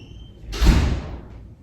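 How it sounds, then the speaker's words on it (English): A door closing indoors: a single soft sliding thud with a short rushing swish, heard alone and fairly close. "He heard the door."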